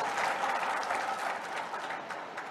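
Audience clapping steadily at a public gathering, a dense wash of many hands held at an even level throughout, with no voices above it.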